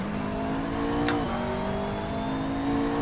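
Lamborghini engine in the racing game Assetto Corsa, a steady droning hum that dips in pitch as it shifts, with a brief high whine, moderately loud and without talk.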